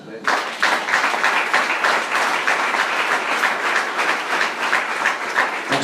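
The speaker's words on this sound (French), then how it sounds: "acclamons le Seigneur" A church congregation claps and cheers in praise of the Lord, a dense, continuous burst of applause that stays loud and steady with crowd voices mixed in.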